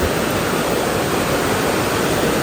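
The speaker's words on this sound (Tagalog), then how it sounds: "Naririnig niyo ba ang pagraragasa ng tubig?" Floodwater rushing loudly and steadily across a road at a flooded campsite, a dense unbroken roar that fills the whole stretch with no voices over it.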